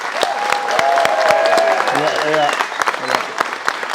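A camp audience gives a few seconds of lively clapping, loud and close, while a voice speaks over it at the start.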